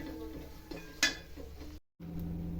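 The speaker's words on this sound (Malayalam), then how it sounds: "ഇങ്ങനെ ഇളക്കി കൊടുക്കാം." Stirring pork curry in a pan after turmeric powder goes in, with soft scraping and clinking of a spoon against the pot over a faint sizzle, close and fairly quiet.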